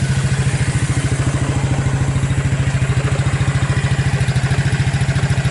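A Suzuki KingQuad 300 ATV engine running on a Keihin clone carburetor idles steadily and close by, a smooth, even low pulsing throb with faint mechanical clatter and no talking.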